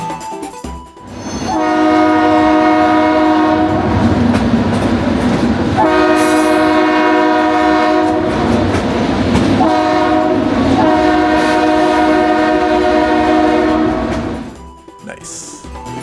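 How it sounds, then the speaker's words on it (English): A loud passing train blasts its horn in long sustained chords, close by, with rumbling wheels and clatter underneath, the horn sounding in several bursts before fading. "If you don't like the sound of a loud train"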